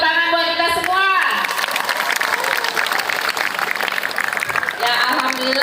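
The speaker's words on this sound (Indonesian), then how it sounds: "Tepuk tangan buat kita semua." Loud, steady audience applause at a government women's and child protection outreach event held at a school, with a voice briefly heard at the start and again as the clapping winds down.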